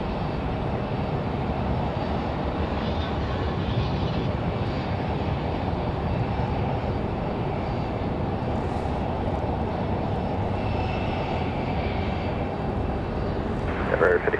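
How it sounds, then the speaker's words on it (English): A CRJ regional jet departing Raleigh-Durham makes a continuous low engine roar, moderately loud and steady throughout. "There goes our CRJ departure."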